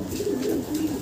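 Racing pigeon cooing close by, a low throaty purring coo repeated in soft continuous waves over about a second, with faint background hiss and no talk.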